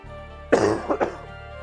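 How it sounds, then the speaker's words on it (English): One person gives a short fit of coughing, a sharp first cough followed by two smaller ones, close and clear over a quiet electrical hum. "Just keep coughing."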